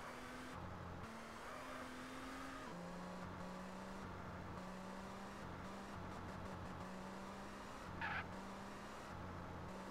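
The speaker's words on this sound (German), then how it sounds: "Ist geil, in so ein Auto zu fahren." A car in the video game SAMP drives along with a quiet, steady engine hum whose pitch steps up and down with gear changes, plus brief faint noise bursts and no talk.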